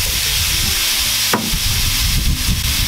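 Pork belly with skin and fat sizzling in a pan over medium heat, a loud, continuous crackling fry heard up close, broken by one quick scrape of a utensil partway through.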